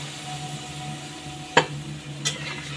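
A pot of simmering poppy-seed dish, just topped up with the water used to rinse the ground poppy seed, gets stirred: a soft background sizzle broken by two sharp scrapes of a spoon against the pot, the first louder.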